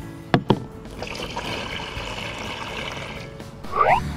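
Water pours and splashes over sandy toy cars in a sink, a steady trickling run broken by a couple of sharp knocks at the start, ending in a brief rising squeak.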